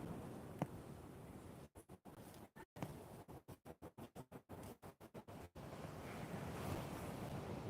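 Atlantic ocean waves and surf washing at the shore, a continuous broad roar with heavy wind buffeting the microphone, briefly broken by a run of rapid dropouts midway.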